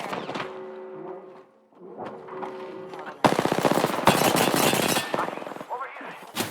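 Automatic gunfire in the shooter game Apex Legends, loud rapid bursts that hammer on for several seconds, preceded by game sound effects and a brief clipped voice line.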